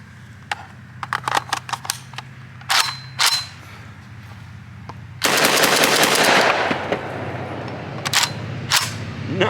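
Rapid shots from a JTS AK 12-gauge semi-automatic shotgun at an outdoor range, fired as a string of loud, sharp blasts, then a dense, continuous burst of fire, then a few more single shots toward the end.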